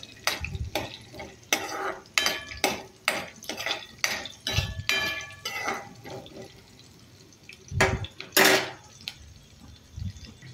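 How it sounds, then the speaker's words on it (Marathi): Cumin, chili and peanuts roasting in oil in a pan, with repeated clinks and scrapes of a spoon against the metal over a faint sizzle, irregular stirring bursts and a louder clatter near the end. "जिरे, मिरची आणि शेंगदाणे भाजून घेऊयात तेलात"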